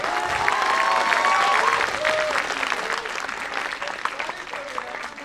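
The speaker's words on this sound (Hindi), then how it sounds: "आप तालियां बजा दो" An audience at a Hindi poetry recital applauds before the poet begins, sustained clapping that fills the hall and slowly thins, with a faint voice or tones under it.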